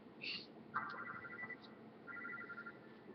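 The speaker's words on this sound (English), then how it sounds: "Phone." Telephone ringing, faint electronic ringtone bursts with a short chirp followed by two warbling rings, thin and distant in a quiet room.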